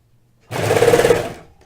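An industrial serger runs steadily for about a second, stitching the edges of sweater fabric with a close, loud mechanical whir that starts abruptly and then fades out.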